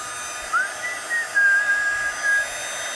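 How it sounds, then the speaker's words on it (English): An embossing heat tool blows hot air with a steady whooshing hum, and a faint thin whistling tone comes and goes over it. "I'm going to heat up my heat tool."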